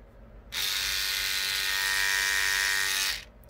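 An electric toothbrush converted into a power sander for model kits switches on with a steady high-pitched buzzing whine for about two and a half seconds, then cuts off, close and alone.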